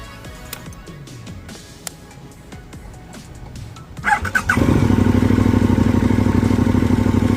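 Motorcycle fitted with a cheap eBay universal exhaust, first heard faintly idling amid wind noise, then bursting into a loud, close, steady rumble as it pulls away and keeps riding.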